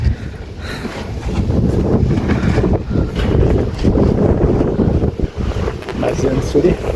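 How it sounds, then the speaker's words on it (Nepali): Wind gusts roar steadily outdoors around a nearly finished view tower, a broad low rumble with swells and dips throughout, while a person talks over it. "बाहिर चाहिँ यस्तो हावा चलिरहेछ फेरि"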